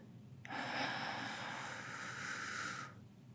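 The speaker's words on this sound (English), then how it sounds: "We're gonna breathe in" A slow, deep breath drawn in through the nose or mouth, one steady airy inhale lasting over two seconds, close and soft against quiet.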